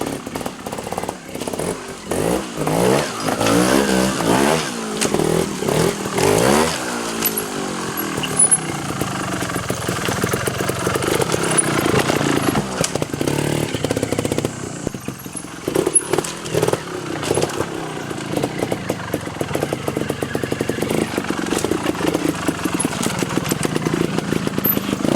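A trials motorcycle riding over rocks at a training centre, its engine loud and close with constant revving, sharp throttle blips and surging pitch sweeps as it climbs, with no talking.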